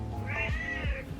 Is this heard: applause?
no